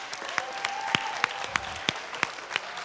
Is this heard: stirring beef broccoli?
no